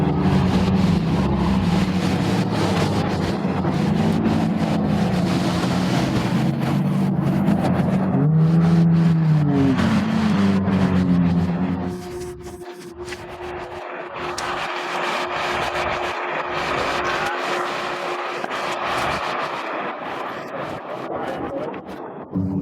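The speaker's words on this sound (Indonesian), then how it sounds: "Raffi malah menikmati waktunya dengan berkendara supercar atau mobil super mewahnya" A Lamborghini supercar cruises with a steady engine drone and a brief rev, joined by passing road and traffic noise, with people speaking over it.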